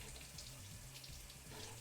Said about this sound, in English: rinse with cool low pressure water from the clean side